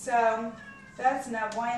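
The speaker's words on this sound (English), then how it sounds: "I'm really sorry about the cat in the background" A pet cat meows in a home kitchen during vegan cookie baking, giving a couple of drawn-out, wavering cries close by, mixed with a person talking.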